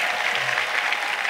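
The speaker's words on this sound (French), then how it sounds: "Clap to Jesus Christ." Short burst of dense congregational clapping at a church gathering, an even wash of many hands with no talk over it.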